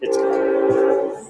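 A train horn sounds steadily in the background for over a second, holding a sustained tone before fading at the end.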